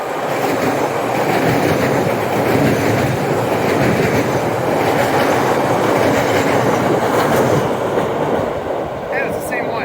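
An MBTA subway train pulling into Forest Hills Station, its wheels clattering over rail joints in a steady clickety-clack that stays loud and close, ending with a faint brake squeal as it slows.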